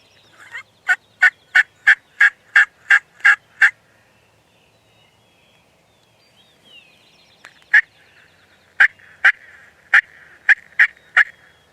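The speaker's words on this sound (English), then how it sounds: "that gobbler's hammering behind me" A wild turkey gobbler gobbles loudly in a spring woods setting, sounding in two rapid runs of sharp repeated notes separated by a quiet pause, with no talk.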